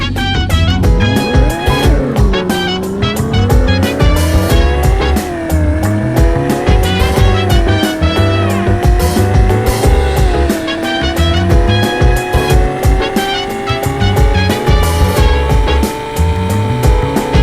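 A Turbo Falcon, styled on the Plymouth Superbird, drives at speed in a video game, its engine tone rising and falling continuously with loud game music layered over it throughout.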